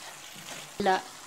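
Tomatoes with spices and herbes de Provence sizzle in a pan, a soft steady frying hiss rising into a brief louder stir near the end.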